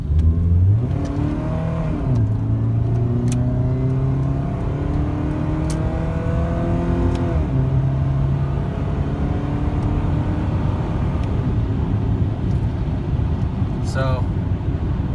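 A 1990 Honda Accord's 4-cylinder engine, with a freshly replaced front motor mount and an overdue timing belt, revs up through the gears from inside the car, rising whine climbing and dropping between shifts, loud and continuous.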